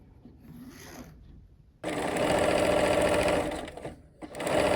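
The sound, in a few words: sewing machine stitching quarter inch seam on quilt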